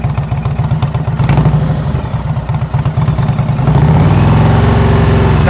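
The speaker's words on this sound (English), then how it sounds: "So you can hear your engines going." A motorcycle engine idles and runs at low speed close by, a steady loud mechanical throb with light clatter that deepens and grows a bit fuller toward the end, with no talking.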